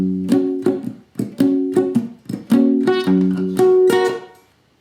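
Acoustic guitar strumming in the chords of a pop song, with sharp percussive slaps between strums and an added bass note, played in a steady rhythm, close and clear with no voice.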